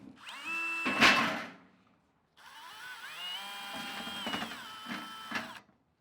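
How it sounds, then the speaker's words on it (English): A power drill whirs up in a short burst, stops, then runs again longer with its pitch rising and dipping as it bites into material. "I'm going to drill a hole and put a rod through here"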